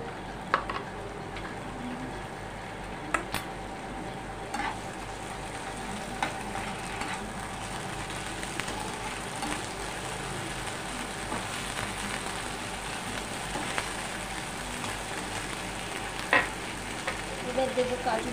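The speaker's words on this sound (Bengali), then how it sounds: "এবার এর মধ্যে আমি আদা রসুন জিরে লঙ্কা পেস্টটা দিয়ে দিচ্ছি 1 চামচ।" Ginger, garlic, cumin and chilli paste fries in a little oil, giving a steady soft sizzle with occasional sharp spits and crackles, moderately close and alone without voices.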